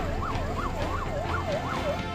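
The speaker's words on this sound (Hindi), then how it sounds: "सायरन बजाती ये एम्बुलेंस जब एक साथ मुसावनी की सड़कों पर दौड़ने लगी" Several ambulances with wailing sirens race along the roads of Musabani, the rising and falling siren tone repeating steadily and loudly over a low rumble of traffic, with no talking.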